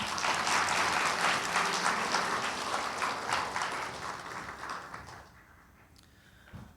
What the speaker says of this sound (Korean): 감사하다고 박수 한번 하겠습니다.